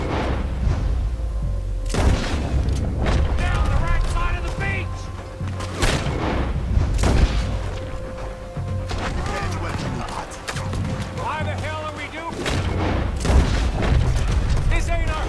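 Heavy cannon and gunfire boom repeatedly in a Red Dead Redemption 2 battle, sharp loud blasts every second or two over rumbling background, with shouting voices between shots.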